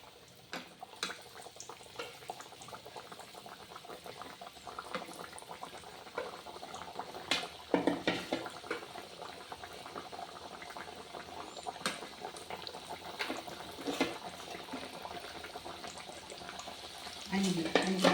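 Thattai vadai, the Jaffna Point Pedro style, frying in hot oil, giving a steady dense bubbling hiss that runs throughout with a few sharper crackles and a louder burst near the end.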